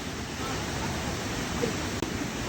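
Waterfall at Taytay Falls (Majayjay Falls) in Laguna, a steady, dense broadband rush of falling water that stays even and loud throughout, with no pauses or breaks.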